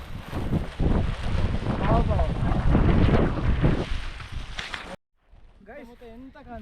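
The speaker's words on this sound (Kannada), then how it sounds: "ಫುಲ್ ಗಾಳಿ" Loud, gusty wind roars and buffets the microphone on foggy Kabbe Hills near Madikeri while a person talks over it, then cuts out, leaving quieter speech.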